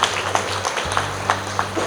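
Applause from an audience at a small traders' and industries function in Hyderabad, scattered claps over a steady low hum, fairly faint and continuous.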